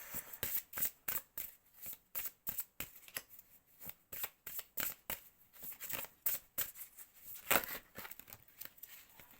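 Tarot cards are shuffled over and over in quick, crisp riffling bursts, a close, fairly soft and steady rhythm of papery flicks with no talking.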